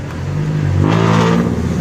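A motorized tricycle engine drones close by, its pitch rising briefly as it revs while arriving, then settling back to a steady mid-range hum.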